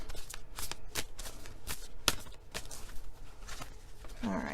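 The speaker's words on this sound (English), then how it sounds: "I'm just going to shuffle this and split the deck in half." A deck of playing cards being shuffled, with a run of crisp riffling bursts and slaps at close range, and a voice briefly audible near the end.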